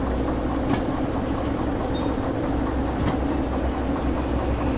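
A locomotive engine rumbles steadily in the railway simulation game Derail Valley, a continuous low drone with faint rhythmic clatter that holds at an even level throughout.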